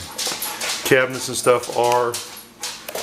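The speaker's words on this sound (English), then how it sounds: "That's my dog, by the way" A dog whimpers and yips in short high-pitched bursts close by, interleaved with a person talking.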